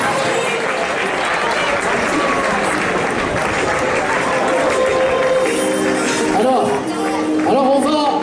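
Spectators at the 2019 Carquefou national athletics meeting applaud and cheer as a runner finishes the women's international 5000 m, the crowd noise loud and continuous while an announcer talks over it.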